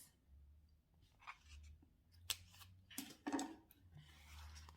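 Scissors snipping material for a DIY custom planner cover, a few quiet, close, separate cuts and rustles in a hushed room.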